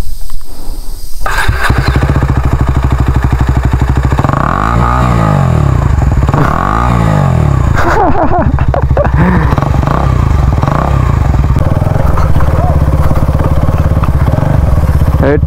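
A motorcycle rides along a rough rural road in Nepal, its engine loud and close throughout with steady droning, surging revs and a clattery rattle over bumps.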